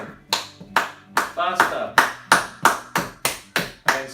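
Hands clapping in a steady rhythm during a strength and balance warm-up routine, about ten sharp claps spaced roughly half a second apart, with an instructor talking over them and music underneath.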